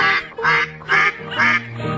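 A duck quacks four times in a steady rhythm, loud and close, each quack a short nasal burst with brief pauses between.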